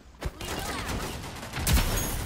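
Gunfire in the online shooter Rogue Company: a sharp shot early on, then a louder burst of rapid fire near the end over a steady bed of game noise.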